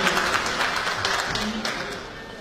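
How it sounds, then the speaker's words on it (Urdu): Applause from an audience at a community tribute meeting, a dense steady wash of clapping throughout, fairly close, with faint voices underneath. "تالیاں بجائیں گے"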